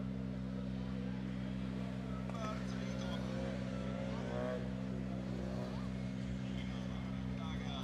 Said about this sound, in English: So cars heading back to the grid area.